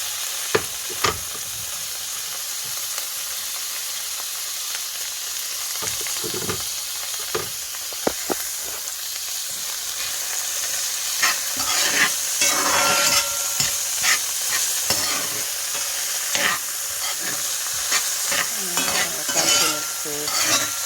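Partially cooked mixed vegetables sautéed in a pan for Jamaican seasoned rice with ackee and saltfish: a steady close sizzle with repeated utensil scrapes and clicks as they are stirred, no voices.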